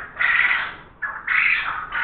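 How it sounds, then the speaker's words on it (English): Caged birds in a home nursery setup squawk loudly and close, two long harsh calls separated by a brief pause, with no talking. "I got two sets of birds on this."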